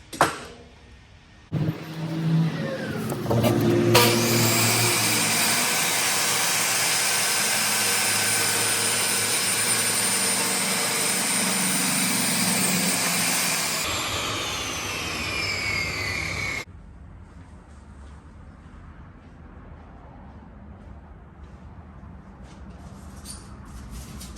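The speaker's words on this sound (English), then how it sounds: "now we'll go to the table saw and rip it to the width" A table saw rips a board to width in a workshop, a loud sustained whine running steadily for about twelve seconds after a brief start-up, then spinning down into quiet room tone.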